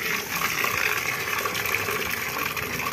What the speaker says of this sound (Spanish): Vamos a ver si cae agua.